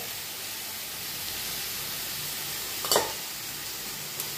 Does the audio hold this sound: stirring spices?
yes